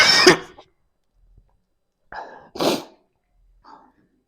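During a classroom lesson, someone nearby gives a few short, sharp cough-like bursts separated by silence, the first loud and the later ones quieter.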